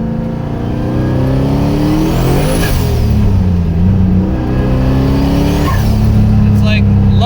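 A turbocharged car engine idles along at low RPM, a steady loud drone with slowly shifting tones and a faint whistle rising and falling, while a person talks over it.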